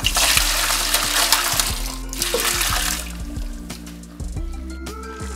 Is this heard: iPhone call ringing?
no